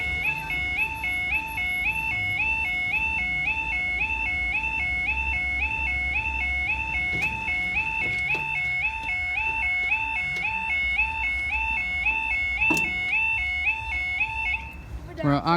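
An electronic timer goes off with a loud, warbling alarm of repeating high beeps in a steady pattern, sounding for many seconds over a low background rumble before cutting off.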